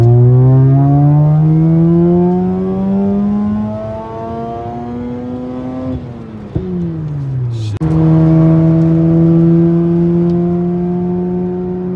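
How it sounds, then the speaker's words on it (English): Mazda RX8 rotary engine fitted with a Bennett Built ignition coil kit, driving on a straight road; loud, close revving that climbs in pitch, drops sharply on a shift, then climbs again. "So you can hear that ignition coil kit on there. It's a Bennett built ignition coil kit."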